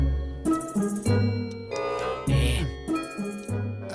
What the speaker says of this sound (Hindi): 12 बजे की घंटी बज गई